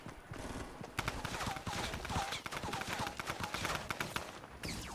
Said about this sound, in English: Dude, what are you shooting at?